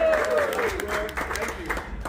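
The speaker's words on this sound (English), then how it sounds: "Round of applause for Art" A brief burst of clapping and cheering from a small group gathered in a Las Vegas casino, with people talking loudly over the applause.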